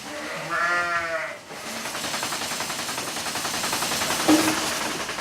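Ewes bleating in a farm milking parlour on weaning day, the first milking of the new lactation season: one clear, wavering bleat up close at the start, then a steady loud clatter and hum of milking equipment with another brief call partway through.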